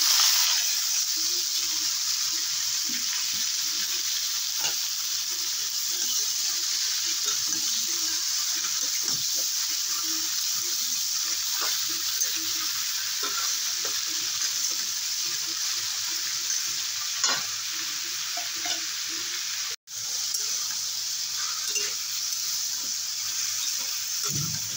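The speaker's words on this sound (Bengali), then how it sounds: "এবারে দিয়ে দেবো ঝিঙে" Sliced ridge gourd drops into hot oil spiced with nigella seeds, producing a long, even hiss of frying with scattered small crackles and pops, fairly quiet, with a brief dropout near the end.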